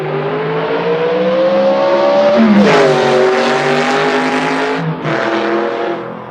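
Race car on a track, its engine droning loud and steady with rising pitch, then a quick downshift and renewed acceleration near the end, with a tire squeal in the middle.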